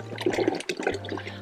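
Water splashes and gurgles as it is poured into a large pot for a backyard crab boil, an uneven, close pouring rush with a steady low hum running underneath.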